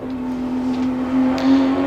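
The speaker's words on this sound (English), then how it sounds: "This is where the GTR is so fast coming out of this corner of the cutting." A Nissan GT-R race car powering out of a corner through a cutting, its engine a steady droning tone that climbs slightly in pitch near the end, heard from a moderate distance with no talk.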